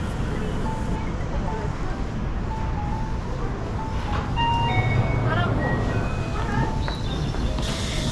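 A train on the Aonami Line rumbles into a station in Nagoya with a steady low roar, faint brake squeals and hum around it, while a voice speaks.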